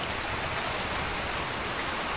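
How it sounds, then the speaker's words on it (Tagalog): Heavy rain pours down steadily during a flood in Laguna, Philippines, a dense, continuous hiss of drops beating on surfaces with no pauses, close and fairly loud. "Sana medyo tumila na tong ulan na to dahil nako po."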